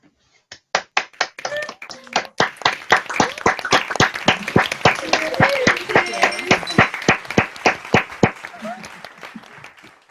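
Graduates of a modern languages school clap and cheer over a video call, scattered individual claps building into dense, uneven applause from many unmuted participants, with some voices mixed in.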